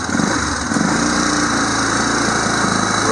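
Yamaha Bruin four-wheeler with an automatic transmission, its small engine running close by with a steady buzzing drone and a brief rev near the start, no talk over it.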